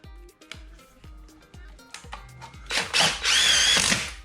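A power drill driving screws into an electrical socket back box in a summer house, with a string of sharp rhythmic clicks followed by a loud, close, rising motor whine as a screw is run home.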